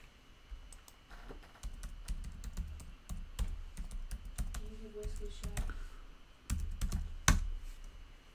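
Computer keyboard typing, quick clicks of keys and a few sharper taps over a low room hum, close by and steady throughout, no talking.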